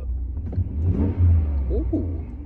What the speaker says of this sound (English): Let's hear what it sounds like revved up.